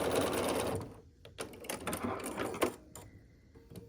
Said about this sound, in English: We'll sew across here with a 1/4 inch seam allowance.